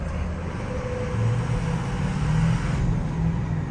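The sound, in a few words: race truck accelerating in first gear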